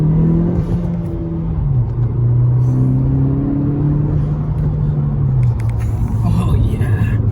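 A 2020 Honda Civic Si fitted with a PRL Cobra cold air intake accelerates through the gears, a loud continuous engine drone rising and dropping in pitch with rev hang between shifts, heard from inside the car while people talk.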